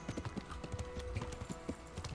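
Horse hooves clip-clopping in a riding video game, a quick steady trot of hollow knocks over a constant background hum.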